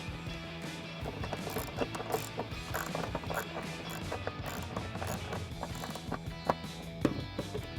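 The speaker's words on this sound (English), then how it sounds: "So now we're gonna reinstall the two 10mm nuts that are holding the corner of the bumper in on each side." Ratchet clicking steadily up close as two 10mm nuts are tightened on the corner of a 2018 Ford Mustang bumper, quick repeated strokes with small metallic knocks, fairly quiet and with no voices.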